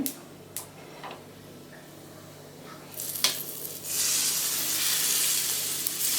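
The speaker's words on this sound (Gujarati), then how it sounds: "રાઈ ફૂટે એટલે આપણે તૈયાર કરેલા આ વઘારને આપણે ઉમેરી દઈશું" Hot tempering of popping mustard seeds poured over khandavi made from gram flour, giving a few sharp crackles and then a loud, steady sizzle that fills the second half, close and unaccompanied by voices.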